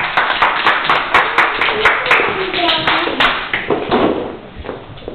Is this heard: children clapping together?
yes